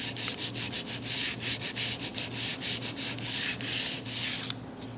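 Wood is sanded smooth by hand with 120 grit sandpaper, a steady run of quick rhythmic rasping strokes, close and fairly quiet, repeating evenly with no voices.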